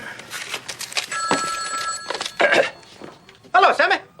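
A payphone line rings on a call, with trilling ring bursts in short clusters heard under steady overlapping talk, moderately loud and close.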